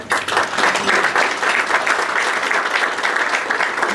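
Sustained audience applause fills a Rotary club meeting room, steady and fairly loud for the full stretch with no pauses, many hands clapping at once.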